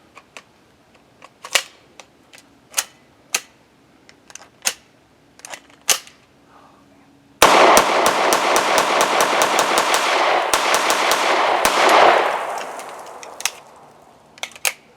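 Live rounds fired from an AB-10 pistol crack out outdoors, first as scattered single shots spaced seconds apart, then as a long, loud, rapid string of shots lasting several seconds before trailing off into a few more isolated reports.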